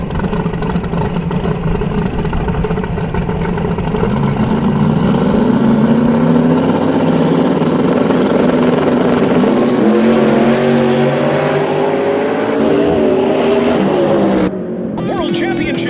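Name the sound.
twin turbocharged drag race car idling then launching down track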